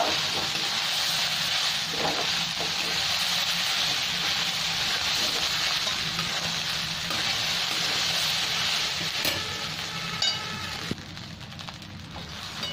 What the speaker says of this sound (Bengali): এবার ভালো করে নেড়ে দেবো আমি